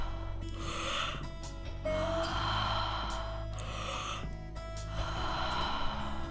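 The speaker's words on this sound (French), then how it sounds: "Faites de belles respirations circulaires et profondes." Deep, circular breaths in a Wim Hof breathing exercise come close to the microphone, several forceful inhales and exhales in a steady rhythm with a low hum underneath.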